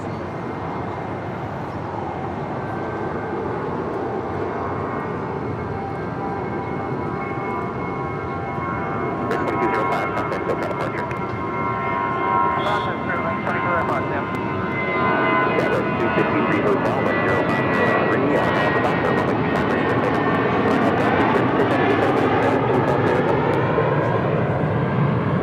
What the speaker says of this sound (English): This is Spirit Airlines 2205 taking off to Puerto Vallarta on an A320.